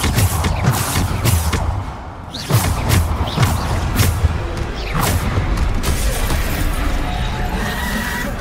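Bombarda blasting spells in Hogwarts Legacy burst repeatedly through dense game combat, a string of booming, crashing impacts and thuds over constant loud effects and music.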